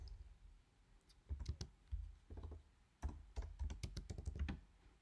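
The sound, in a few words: typing code on a computer keyboard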